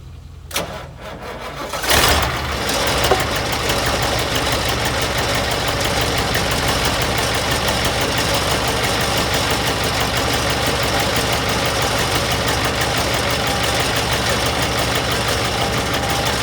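A Massey Ferguson 1805 tractor engine cranks and catches after a couple of seconds, then settles into a steady, loud idle that continues without interruption.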